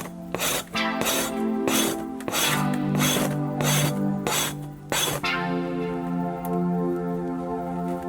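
A tool scrapes hair and grain from a moose hide in a series of regular, close, rasping strokes, about one per second, then gives way to a softer lingering scrape.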